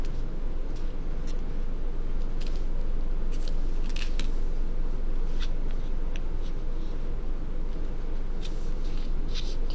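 Sheets of paper being folded and creased for an origami peacock, with crisp crackling and sliding sounds over a steady background hiss, close and continuous.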